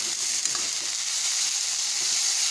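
Fiddlehead frying with red chilli in a pan makes a continuous close hiss and crackle, with faint stirring scrapes and no talk.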